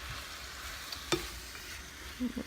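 Vegetables for a keto spaghetti pie sizzle in a hot pan as they cook down, a steady close frying hiss with a sharp clink of a utensil and brief stirring noises.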